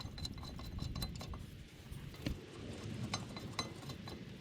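Metal 17mm bolts clink and rattle faintly in a hand during rear brake caliper bracket work on a Lexus IS 300, a scatter of small light chinks close by without speech.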